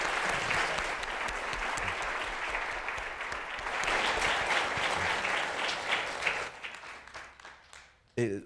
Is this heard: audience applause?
yes